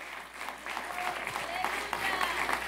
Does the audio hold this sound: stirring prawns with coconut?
no